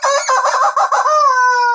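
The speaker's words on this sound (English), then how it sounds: "Chicken." A rooster crows loudly and up close over about two seconds, a long drawn-out cock-a-doodle-doo with a few clucks mixed in, heard on its own.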